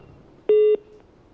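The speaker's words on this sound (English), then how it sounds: "Let me go to the phones and speak to Emmanuel." A single short telephone tone of about a quarter second, clear and steady, sounds over a quiet line as a radio host takes a listener's call on a current-affairs program.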